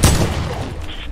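A loud, close burst of gunfire in Fortnite that fills the moment with a heavy boom and then decays for about a second.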